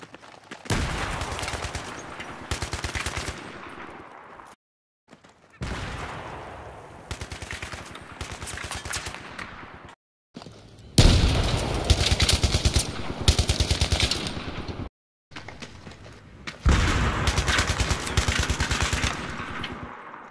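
Video game gunfire: bursts of rapid rifle fire repeat several times, separated by short silences, with loud booming grenade blasts mixed in among the crackling shots.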